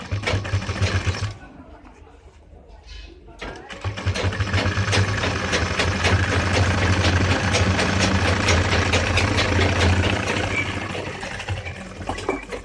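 A sewing machine runs steadily while stitching the pocket opening on a pair of trousers, a continuous mechanical whir that stops briefly after the first second before resuming at a fast, even hum.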